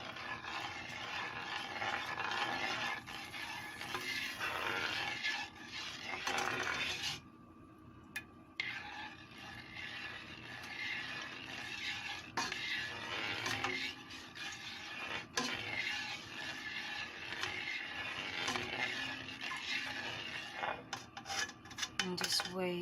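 Sticky rice (biko) mixed in a pot, a quiet continuous rasping and rubbing of a utensil against the pot with occasional clinks, brief pauses between strokes, no voices.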